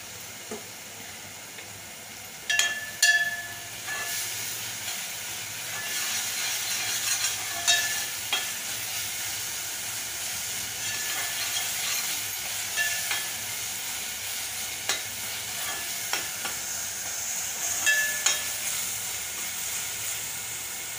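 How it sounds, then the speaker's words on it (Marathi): Green chillies roast dry in a pan for Maharashtrian thecha, a soft continuous hiss and sizzle with a few sharp clinks and scrapes of a spatula, fairly quiet and close with no voices. "ठेचा मिरचीचा कच्चापणा जाईल एवढं भाजून घ्यायचंय"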